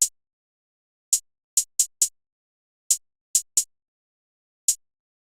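Hi-hat hits from an FL Studio glo beat, nine crisp isolated ticks spaced irregularly in quick clusters, dry and bright with nothing else playing.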